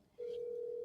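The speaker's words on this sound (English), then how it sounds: "gonna call my business phone number" A steady single-pitch telephone tone sounds on a call to a business number, starting abruptly after a brief quiet moment and holding loud and continuous.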